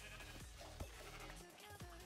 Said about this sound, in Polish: To są owce.